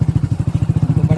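A motorcycle rides along a muddy, rough road, its engine chugging in a fast, even pulse close up and loud, with a hint of talk near the end.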